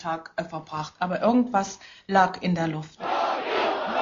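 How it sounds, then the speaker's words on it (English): Crowd chanting for the visiting Soviet leader Gorbachev on an October 7th celebration day: rhythmic, voiced chant phrases repeated in bursts, ending in a broad, sustained crowd roar. "The crowds chanted for the visiting Gorbachev, not for their own die-hard leaders"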